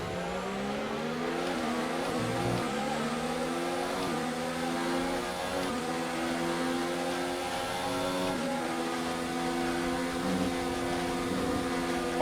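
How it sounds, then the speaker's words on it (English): An F1 car engine in the F1 2019 racing game during the Belgian Grand Prix screams at high revs, with pitch climbing and dropping through repeated gear shifts, loud and continuous. "Well, I've turned the engine up here."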